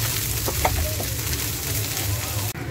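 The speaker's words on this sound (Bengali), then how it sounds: "এখন এক এক করে রসুন, কাঁচামরিচ, পেঁয়াজগুলো ভেজে নিব।" Garlic, green chillies and onions fry in hot oil with a loud, continuous close sizzle and crackle, a few faint clucking-like pops over it, and a sudden brief drop right at the end.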